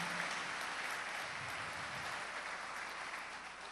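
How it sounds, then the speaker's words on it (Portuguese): Church congregation applauding during an evening service, a steady, dense wash of clapping from many hands that holds for several seconds and fades slightly, heard at a moderate distance with no voices. "Se você tem esta alegria, aplauda Jesus comigo uma vez mais nesta noite."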